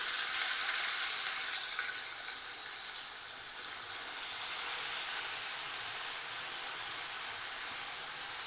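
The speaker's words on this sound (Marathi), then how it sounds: "आता याच्यामध्ये जो वाटण केलेला आहे तो मसाला घालून घेऊया।" Ground masala paste sizzles and hisses steadily in hot oil in a pan for a fish-head curry, a continuous bright frying crackle with no talking.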